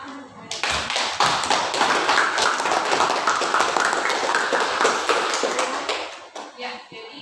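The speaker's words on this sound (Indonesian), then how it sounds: "Beri tepuk tangan." Classroom applause from a group of students, a dense burst of clapping that swells quickly, holds steady for several seconds, then tapers off with a few stray claps.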